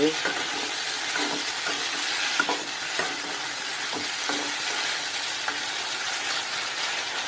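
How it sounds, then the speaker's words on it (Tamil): Pirandai vine sautéed with chillies and garlic in a pan for pickle, giving a steady, close frying sizzle throughout with intermittent scraping stir clicks and no talk. "நமக்கு தேவையான அளவு மிளகாய், பூண்டு, இது மூணு போட்டு தான் வதக்கிறது."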